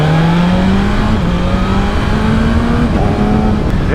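A 2025 BMW M1000XR motorcycle engine's intake growls steadily and loudly, its droning pitch creeping slowly upward with a couple of brief dips, no voices.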